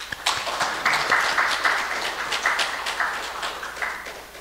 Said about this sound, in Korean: 크게 박수 한번 해주시죠